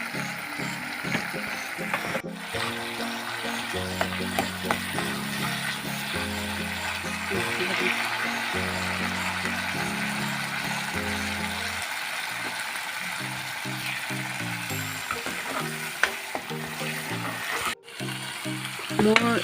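Mustard masala fries in hot oil in a pan for a pointed gourd with mustard sauce dish, giving a steady crackling sizzle throughout with brief clinks and scraping, and a voice talking over it.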